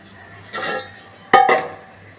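A metal cooking pot of water is handled twice while biryani is set to steam: a soft scrape, then a sharper clank and rattle, close by in a quiet room.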